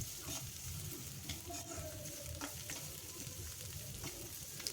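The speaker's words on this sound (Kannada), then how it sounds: "ಹೀಗೆ ಚೆನ್ನಾಗಿ ಫ್ರೈ ಮಾಡ್ಕೊಳ್ಳಿ." Crushed garlic and ginger sizzle in a pan of oil while being stirred, a soft and faint continuous frying crackle heard up close.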